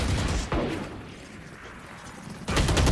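Gunfire in a competitive Valorant match, with a loud burst of shots at the start and another dense burst near the end, separated by a quieter stretch of game sound.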